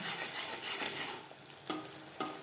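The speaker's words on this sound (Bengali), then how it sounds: "তিন চার মিনিট লো টু মিডিয়াম ফ্লেমে মশলা ভালো করে কষিয়ে দেবো" Spices being fried in a pan over a low-to-medium flame for a vegetarian okra curry, heard as a faint, steady sizzle broken by a couple of soft spatula knocks and scrapes.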